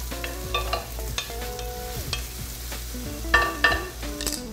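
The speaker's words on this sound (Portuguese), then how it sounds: "Agora entram aí os nossos cogumelos. Enquanto tá fritando" Garlic and shiitake mushrooms frying in a pan, with irregular stirring scrapes and clinks over a steady low sizzle, close and moderately loud, with no talking.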